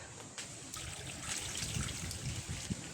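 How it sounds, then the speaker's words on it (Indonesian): Plain water poured into a cooking pot of taro, a steady, splashy rush that swells after the first moment and continues evenly at close range with no talk. "Dan di sini aku juga mau tambahkan air biasa ya teman-teman"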